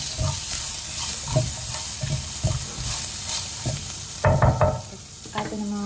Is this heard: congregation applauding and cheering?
no